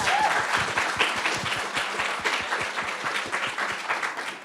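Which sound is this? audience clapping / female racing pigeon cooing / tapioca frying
audience clapping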